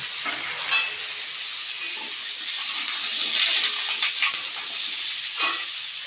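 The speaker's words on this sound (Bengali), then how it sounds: "কড়াই তেল দিয়ে আমি কুমড়োগুলো হালকা করে ভাজি ভেজে নেব" Pumpkin pieces frying lightly in oil in a wok give a steady, close sizzle throughout, with a few brief stirring clatters and no talking.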